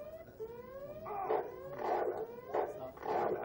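Dog attacking the player in the PC game Deus Ex, heard as repeated snarling barks and whimpering yelps in quick bursts, fairly close and loud against a steady tonal game background.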